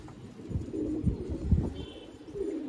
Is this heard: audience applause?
no